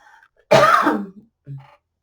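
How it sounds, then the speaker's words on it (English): A single sharp cough bursts out, followed a moment later by a smaller throat-clearing sound, with quiet around them. "sudden coughs, sometimes I just cannot hold back"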